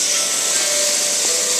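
A steady, loud hiss from a gas camping stove burning inside a tent while food cooks, with a constant, even roar and no talking.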